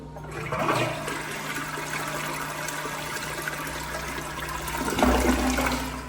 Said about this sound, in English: Here's how you flush the toilet.